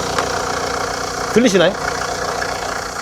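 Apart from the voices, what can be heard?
Kia Carnival diesel engine idling resonance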